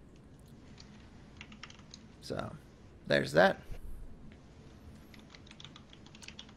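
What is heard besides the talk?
typing on a computer keyboard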